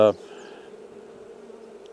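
Low steady hum of honeybees working a Keeper's Hive, a soft continuous buzz after a brief louder burst at the start.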